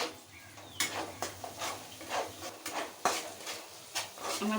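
Tomato paste is stirred into frying spice masala for a vegetarian potato and pointed gourd korma, giving repeated scraping strokes of a spoon against the pan over a soft, steady sizzle, close and fairly quiet.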